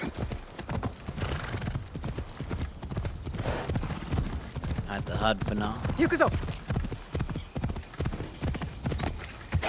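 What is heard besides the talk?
horse galloping hooves in video game Assassin's Creed Shadows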